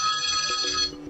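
The Bell Phone ringtone on a BLU Vivo Go phone sounds loud and close, a bright ringing electronic bell tone that sustains and then fades.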